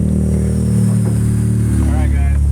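A K24-swapped EK Civic hatch pulls hard on the freeway, its engine a loud, steady drone heard from inside the cabin with a rising whine. Voices talk briefly over it.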